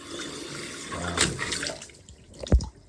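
High-pressure water gushes from a burst plumbing pipe indoors, a loud steady rushing hiss that swells briefly and ends with a sharp splash near the close.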